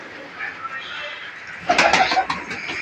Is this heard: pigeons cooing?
yes